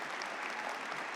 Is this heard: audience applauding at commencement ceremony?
yes